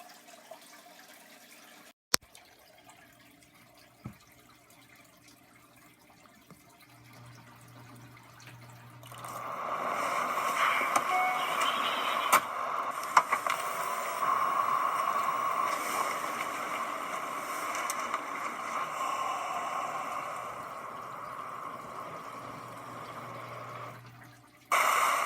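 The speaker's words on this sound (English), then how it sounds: "The water flowing so quickly it was creating whitecaps in the middle of Johnson Street." Water gushes from a ruptured 20-inch water main on a city street, a broad steady roar that swells in after a quiet stretch and holds, moderately loud, until it cuts off near the end.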